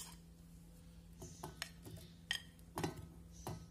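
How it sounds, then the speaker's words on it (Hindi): A blender jar being picked up and set down in a kitchen, giving a few quiet, scattered clinks and knocks of glass or hard plastic against a surface over a faint steady hum. "तो सबसे पहले हम जार लेते हैं"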